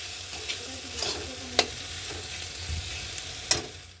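Potato and pointed gourd frying in a pan, with a steady low sizzle and occasional sharp stirring scrapes and taps of the spatula against the metal.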